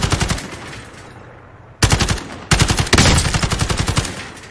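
Automatic weapon fire from Call of Duty Warzone crackles in loud, rapid bursts: a long stream, a brief pause, then two more sustained volleys close up.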